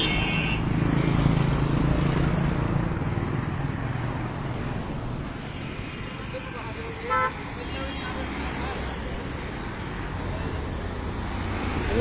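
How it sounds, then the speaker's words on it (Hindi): Roadside traffic on a tourist road lined with parked vehicles: a steady wash of passing cars and engines with wind buffeting, a brief horn toot midway, and someone talking over it. "पूरा रोड इन्होंने ट्रैफिक से भरा है।"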